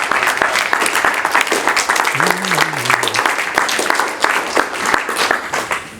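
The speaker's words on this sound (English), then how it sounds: "Let's applaud them." A large audience applauds veterans of the Israeli Defense Forces and American forces at a community honors ceremony, sustained dense clapping filling the whole stretch with a brief voice or whistle rising partway through.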